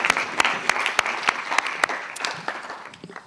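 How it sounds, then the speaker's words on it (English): Applause for two panelists at a European Union financing seminar: a medium crowd claps steadily for a few seconds, moderately loud and close, with no talk. "let's give a very big applause to our two panelists for their contributions"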